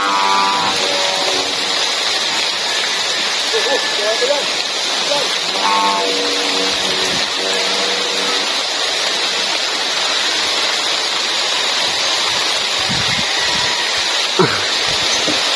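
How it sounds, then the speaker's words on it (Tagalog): Heavy rain pours in a steady loud roar during a windy storm outdoors, with voices shouting briefly over it early on. "Ang lakas ng ulan."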